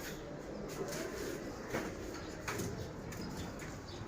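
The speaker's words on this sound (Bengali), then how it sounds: "আরও আছে অনেক ভালো ভালো কবুতর আছে" Pigeons cooing in a loft among birds kept for sale, soft low coos repeating faintly over a quiet background with a few light knocks.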